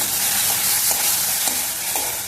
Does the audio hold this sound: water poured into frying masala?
yes